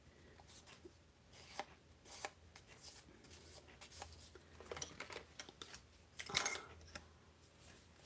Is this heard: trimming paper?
yes